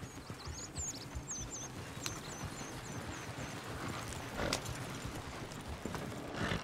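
Horses in the video game Red Dead Redemption 2 clip-clop steadily at close range, with hooves thudding irregularly, a brief whinny and some faint bird chirps in the background.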